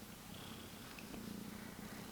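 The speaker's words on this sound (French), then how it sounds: "Je vous montre ce petit chaton tout mignon" A small kitten purrs softly and steadily close by, a low rhythmic rumble continuing throughout with no talking.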